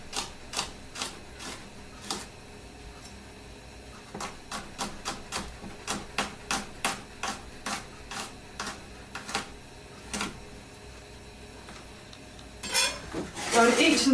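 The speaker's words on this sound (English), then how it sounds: "And the garlic, rather than crushing it, we're just going to slice it thinly." Kitchen knife slicing garlic cloves thinly on a cutting board: a run of crisp, evenly spaced chops in bursts, close and clear, ending with a louder clatter and rustle.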